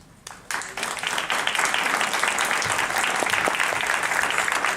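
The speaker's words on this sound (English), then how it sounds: "let's give you a round of applause" An audience at a job-search gathering bursts into applause, starting with a few claps and quickly swelling into a full, sustained round of many hands clapping.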